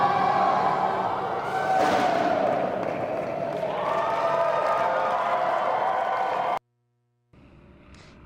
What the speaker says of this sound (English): That was the crowd cheering for Andy Taylor.